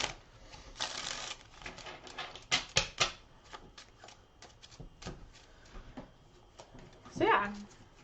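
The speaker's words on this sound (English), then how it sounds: "Steve, if you wouldn't mind pre-shuffling the tickets" Ticket cards from the Ticket to Ride: Rails & Sails board game being shuffled, giving bursts of quick papery riffling and flicking, close and fairly faint, while people talk nearby.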